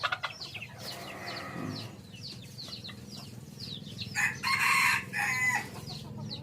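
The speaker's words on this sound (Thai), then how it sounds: "เดี๋ยวรออาจจะขันพวกเราได้ชมเสียงขันไก่ชิ้นนี้ครับ" A green junglefowl hybrid rooster crows loudly nearby, a strained, rising call standing out over a background of other birds chirping and clucking.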